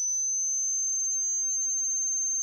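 A high, steady sine-like tone from the self-oscillating filter of a Marienberg Multimode VCF analog synth module, holding one pitch evenly throughout with nothing else heard.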